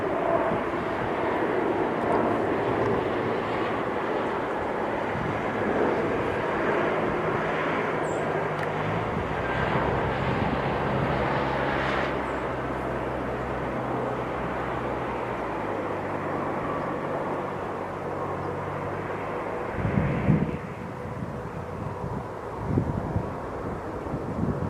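An aircraft at Philadelphia airport, a broad sustained engine roar with a steady low drone and wind buffeting the microphone, holding for the whole stretch without voices.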